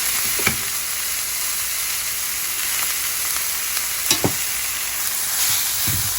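Masala with coriander powder and chili powder being stirred in a pan for a green peas egg masala, a steady sizzle with a few scraping spoon strokes, close and with no talk.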